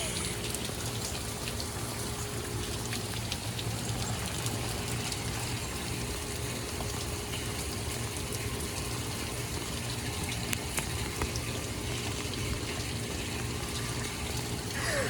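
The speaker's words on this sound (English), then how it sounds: "I'm getting rained on right now." Steady rain falling during tropical storm Harold, a constant close hiss of drops and splashing water on surfaces with no break across the whole stretch.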